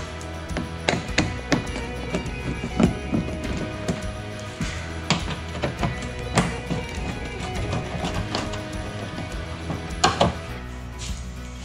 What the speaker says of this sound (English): socket wrench or nut driver, whichever you prefer, to remove these screws